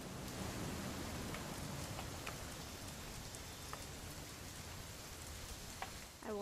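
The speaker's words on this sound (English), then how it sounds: "It's going to rain the whole weekend, isn't it?" Steady rain pours down throughout the scene in the video game What Remains of Edith Finch, a dense, even hiss of drops that stays constant with no voices over it.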